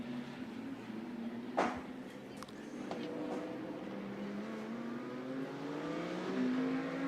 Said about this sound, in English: So, long line of cars making its way out of the chicane.